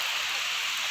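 Heavy rain from Typhoon Tino pours down steadily in Santander, Cebu, a dense, even hiss that stays loud and unbroken through one brief moment, with no voices.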